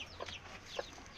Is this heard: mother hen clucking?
yes